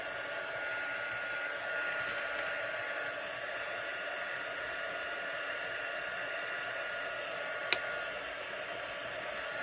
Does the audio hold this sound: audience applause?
no